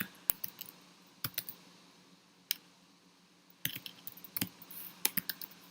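Sparse keyboard typing at a workshop computer: isolated sharp key clicks and short bursts of keystrokes with pauses between, fairly close over a low room hum.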